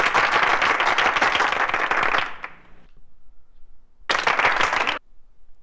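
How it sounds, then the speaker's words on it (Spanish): Applause from a political audience praising Colombian ex-official Olmedo López bursts loudly for two seconds, fades out, then a second short round of clapping returns. "Muchas gracias por esos aplausos"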